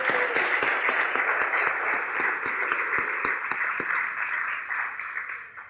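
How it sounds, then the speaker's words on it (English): An audience at a college building ribbon cutting claps steadily, a dense, even patter of applause that holds for several seconds before tapering off. "Let's give you a round of applause."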